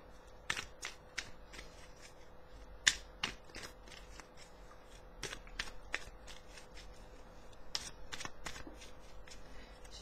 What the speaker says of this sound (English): Shuffling in the background,